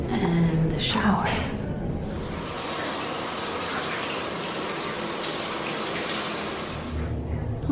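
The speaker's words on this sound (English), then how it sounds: "And the shower." Shower water running in a marina washroom, a steady hissing spray that starts after a brief bit of talk and continues alone for several seconds before stopping.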